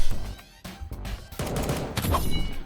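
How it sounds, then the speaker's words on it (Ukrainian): Gunfire in a Roblox shooter game sounds as a few sharp, fairly close cracks scattered over a dense, noisy game background. "Чую стрілянину."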